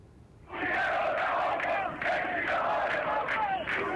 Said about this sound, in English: Furious Iranians flooded the commercial center of Tehran this week to protest Iran's plunging currency